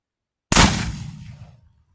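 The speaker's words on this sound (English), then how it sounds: "I shot it with my first barrel" A single loud blast from a 12-gauge double-barrel blackpowder shotgun, a Pedersoli build, fired outdoors, with a sharp crack followed by a decaying rumbling tail lasting about a second.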